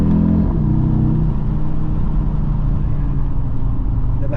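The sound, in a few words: Audi RSQ3 Sportback five-cylinder engine revving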